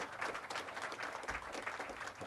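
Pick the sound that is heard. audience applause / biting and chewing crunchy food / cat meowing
audience applause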